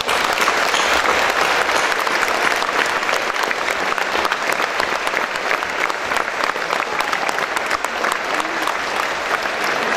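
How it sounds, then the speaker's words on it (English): An audience at ESA's ESTEC centre applauds the Rosetta mission's Philae landing team. Loud, sustained clapping from many hands fills the room, steady and unbroken for ten seconds. "join me in a big applause for all our friends"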